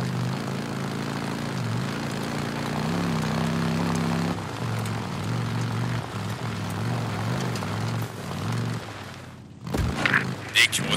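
Helicopter in the Days Gone video game droning steadily with a low rotor and engine hum, fading briefly near the end before a few louder bursts. No talk is heard over it.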